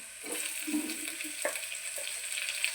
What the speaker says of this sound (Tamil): வெங்காயம் பூண்டெல்லாம் நல்லா வதங்க பிறகு நம்ம தக்காளியும் பச்சை மிளகாவும் சேர்த்துக்கிறோம்